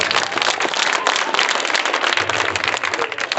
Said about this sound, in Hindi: तो सही है, तो जोरदार ताली के साथ।